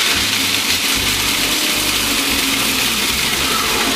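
Garlic and cheese croutons ground in an electric grinder, a loud, steady whirring motor roar with gritty crunching that runs continuously throughout, close and alone.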